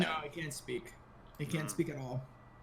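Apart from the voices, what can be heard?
No distinct noise like a dog, phone or traffic.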